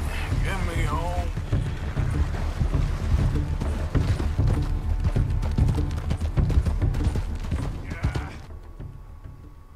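A horse gallops at full pace in the video game Red Dead Redemption 2, its hooves pounding in a fast, continuous clip-clop with creaking tack, close and steady, before the hoofbeats abruptly stop.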